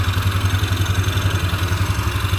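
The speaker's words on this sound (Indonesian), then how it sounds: "Starter, mesin, dan motornya sudah hidup kembali." A motorcycle engine idling steadily right after being restarted, a close, loud, even low-pitched putter with a fast regular pulse and some mechanical clatter, no talking over it.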